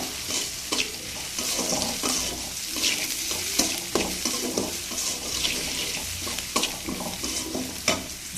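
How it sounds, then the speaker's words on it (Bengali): Okra seasoned with salt and turmeric sizzles in a hot pan as a spatula stirs it repeatedly, producing frequent scraping strokes over a constant frying hiss, close with no talk. "এটাকে নেড়ে চেড়ে বেশ ভালো করে ভেজে নেব।"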